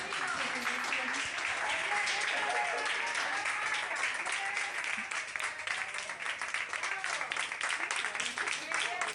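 Applause from hospital staff as a patient leaves the ICU ward, sustained clapping from a group heard fairly faint and distant beneath a news presenter's voice.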